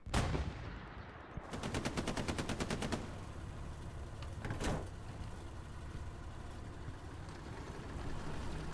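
Gunfire in a World War II video game battle at Utah Beach: a sharp opening shot, then a rapid machine-gun burst of about a dozen rounds, and a later single loud report over a constant din of battle. No voices.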